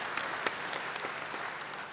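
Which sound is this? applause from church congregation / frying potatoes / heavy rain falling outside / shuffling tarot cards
applause from church congregation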